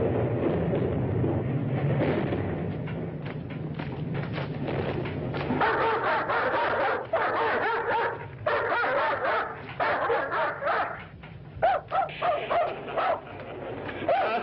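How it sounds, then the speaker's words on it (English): A dog barks repeatedly in quick yips and bow-wows with some whimpering, close and fairly loud, following a rumbling noise at the start. "tell him to take that howling mutt with him."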